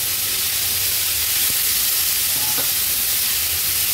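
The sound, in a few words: vegetables added to hot oil tempering sizzling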